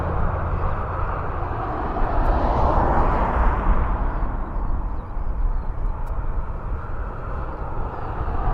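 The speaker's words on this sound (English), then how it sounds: "The Qatar is pinging and it is being pushed back." Qatar Airways airliner being pushed back from the gate at an airport, its engines giving a steady, loud broadband roar and whine throughout, with no talk.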